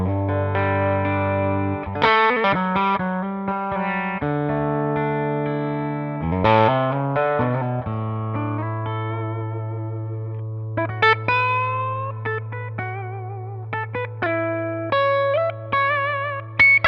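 Electric guitar played through a Klon Centaur overdrive pedal with a little reverb: a sustained low note under chords and melodic bends, then brighter picked phrases, warm and mildly overdriven, played alone without talk.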